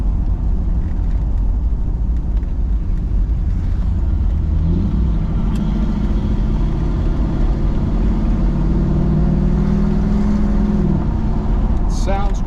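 A 1971 Camaro RS/SS with a 350, 270-horsepower V8 and a three-speed drives along, its engine droning steadily with a rise in pitch partway through as it accelerates, heard from inside under some talking.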